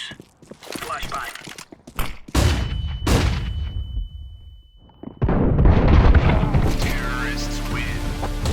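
Gunfire and a flashbang from a counter-terrorist shooter game on a 1v1 Vertigo map: sharp shots crack early, then a high ringing tone holds for a few seconds before loud, dense bursts of fire take over, with voices at times.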